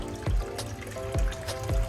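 Water drips from a gas water heater's closed relief valve pipe into a bucket. Three distinct plopping drips land at a slow, even pace over a faint background trickle.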